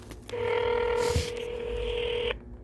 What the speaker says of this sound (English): Let's call this guy.